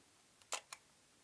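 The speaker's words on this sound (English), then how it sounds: "shutter actuation" A single shutter actuation from a film camera: one faint preliminary tick, then a sharp mechanical snap and a quick second click, all close and isolated against near silence.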